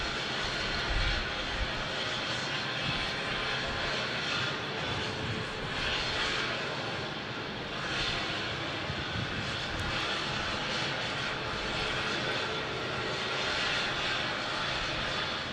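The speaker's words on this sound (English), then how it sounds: "As we check out this American 737-800." An American Airlines Boeing 737-800 jet roars steadily at Phoenix Sky Harbor, a broad, loud engine wash that swells and eases slightly as it moves, with no voices over it.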